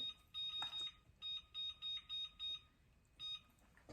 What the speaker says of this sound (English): I'm gonna set the timer here.